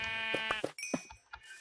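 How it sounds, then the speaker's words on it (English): A sheep in the video game Minecraft bleats in a few short, wavering cries, close and clear over near silence. "I know this is a sheep, so I can mess with it."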